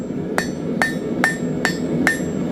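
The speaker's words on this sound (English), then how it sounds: "Step one is we're going to come and put a point on this. Right at the edge of the anvil, as always." Five evenly spaced hammer blows ring out on hot steel at the edge of an anvil as a point is drawn, each strike sharp and metallic with a brief ringing tail, heard close and alone.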